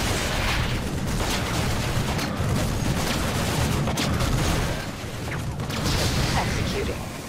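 Gunfire rattles during a StarCraft 2 mission in a dense, steady barrage of rapid shots and mechanical clatter, loud and close, with short bursts of heavier impacts mixed in.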